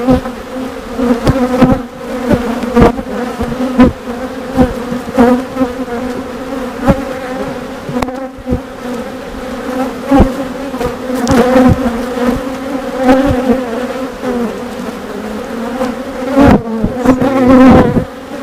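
Honeybees buzz steadily and close around an open beehive during an inspection, a continuous droning hum with occasional louder passes and soft knocks of handling, no talking.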